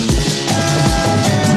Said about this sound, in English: So the tape machine, or the tape machine, the Kramer tape plugin sounds like this.